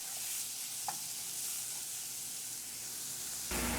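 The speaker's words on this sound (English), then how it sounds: "I'm going to add in the chopped up onion, the garlic, tomato, and the hot pepper." Chopped onion, garlic, tomato and hot pepper sizzle in a hot pan for a green fig talkari with saltfish: a loud, steady, close hiss with soft stirring, rising sharply near the end, with no speech.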